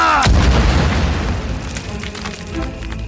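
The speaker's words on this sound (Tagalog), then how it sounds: "Kaya nang sumabog ang granada, nasapul ang mga kamay at paa nito." A grenade blast in a Filipino horror audio drama: a loud, deep boom with a sharp onset that rolls into a long rumbling decay, heard alone.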